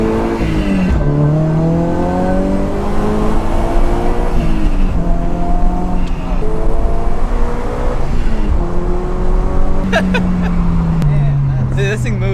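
Supercharged Subaru BRZ with an HKS GT2 supercharger accelerating hard from inside the cabin, its engine note rising steadily through several gears with brief dips at each shift, loud and close, with occupants talking over it.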